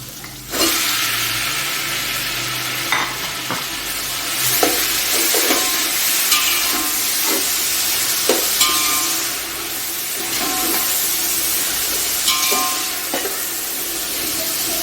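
Tomatoes dropped into hot oil while cooking kofta pulao give a loud, steady sizzle and frying crackle, with stirring scrapes and clinks through the whole stretch and no talk.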